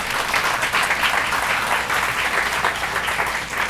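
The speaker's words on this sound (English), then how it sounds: "to give them a round of applause for all their hard work this year" A performance audience gives students a round of applause, steady, moderately loud clapping from many hands filling the room with no voices on top.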